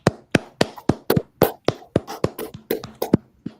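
Hands clap in a slow, uneven series of about fourteen sharp claps, close and loud, with brief gaps between them and no talk, in a live-streamed NHL Entry Draft setting.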